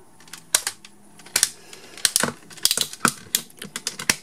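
Plastic parts of a Gosei Ultimate Megazord toy from Power Rangers Megaforce snap and peg into place, giving a rapid, irregular series of sharp, close clicks and clacks with no talking.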